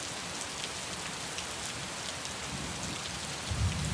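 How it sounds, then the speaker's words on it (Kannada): Heavy rain pours steadily over Bengaluru, a dense, even hiss of drops on surfaces that swells a little louder near the end, with no voices. "ಬೆಂಗಳೂರಿನ ಎಲ್ಲಾ ಕಡೆ ಎಲ್ಲಾ ನಗರಗಳಲ್ಲೂ ಕೂಡ ಮಳೆ ಧಾರಾಕಾರವಾಗಿ ಸುರಿದಿದೆ"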